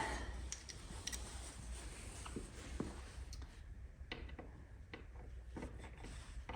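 A ratchet tool clicks as it tightens bolts on a BMW R NineT motorcycle during air filter fitting, with faint rapid pawl ticks under steady background noise.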